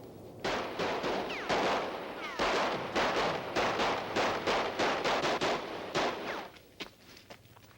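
Wartime gunfire from troops fighting the Red Army, a rapid series of sharp shots and bursts overlapping for several seconds, fairly loud and dense, then thinning to a few scattered reports near the end.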